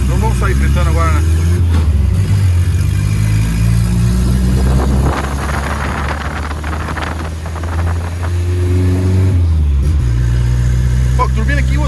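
A turbocharged Volkswagen Parati GL engine on a track, loud and close, revving in rising and falling sweeps with a rough, throaty drone and a brief lull midway; people talk over it.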